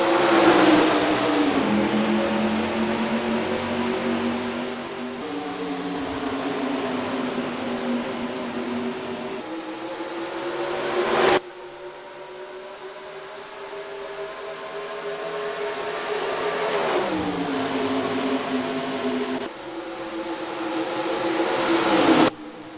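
Race cars circle the one-mile Phoenix Raceway in the NR2003 racing game, engines droning loud and steady as cars pass in waves, pitch rising and falling with each pass and shift, sharp cuts between camera views.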